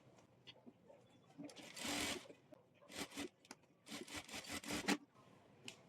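A sewing machine runs a double stitch along the attached sleeves of a short-sleeve garment, heard as quiet bursts of rapid mechanical stitching, one longer run followed by several short starts and stops.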